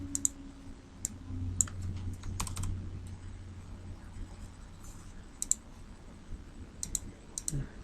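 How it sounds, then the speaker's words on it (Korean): Computer keys are pressed, including a Ctrl+X cut shortcut, as a few scattered, crisp clicks and taps over a quiet low hum. "컨트롤 X를 눌러서"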